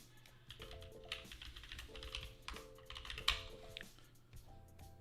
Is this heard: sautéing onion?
no